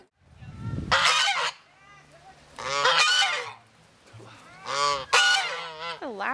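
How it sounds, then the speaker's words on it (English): Geese at a sheep and wool festival honk loudly in several harsh, close bursts separated by short pauses. "The loudest geese I've ever seen."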